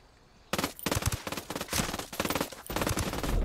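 Loud bursts of rapid gunfire in the video game Ghost Recon Wildlands, several clustered volleys of close shots with brief gaps between them after a quiet opening.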